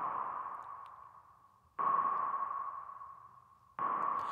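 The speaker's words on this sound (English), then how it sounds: "I like how you do that sonar sound." Sonar-style pings synthesized from white noise for a beat, three long tones, each striking abruptly and then fading slowly, spaced about two seconds apart and heard alone.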